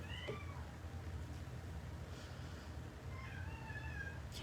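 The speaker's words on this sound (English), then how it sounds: "Again, sorry for the cats." A house cat meows repeatedly indoors, a couple of drawn-out, pitch-sliding cries near the start and another pair toward the end, over a steady low background hum with no talking.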